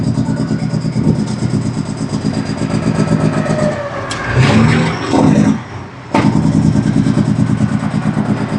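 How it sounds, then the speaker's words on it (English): A loaded semi truck's engine brake rattles in traffic, a loud, pulsing staccato drone from the cab that drops away briefly before resuming just as strongly. "I'll do the little Jakes here."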